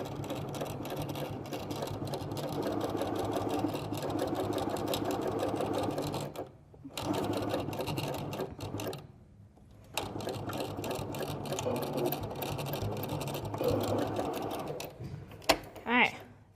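A sewing machine stitches fabric for an Easter basket with a fast, steady mechanical whir, running in long bursts with brief pauses near close range, while someone talks over it.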